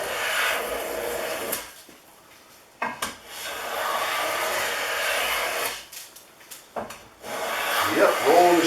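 Stanley No. 19 block plane shaving wood in a few separate rasping strokes, close and fairly loud, with short pauses between passes.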